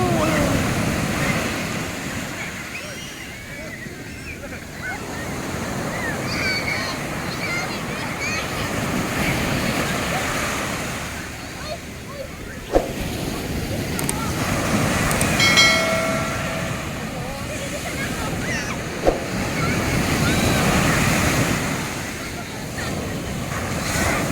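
Strong ocean waves crash and wash steadily onto Tiwitiwi Beach in Legaspi, Albay, with a broad, continuous roar of surf swelling and receding, punctuated by a couple of sharp impacts.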